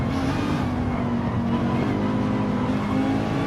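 Race cars running side by side on Trial Mountain in a racing video game, close engines holding a steady, loud drone without a break.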